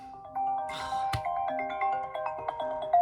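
A phone rings with a melodic ringtone of sustained tonal notes that change pitch and repeat, heard clearly in a quiet room with a brief clatter near the start.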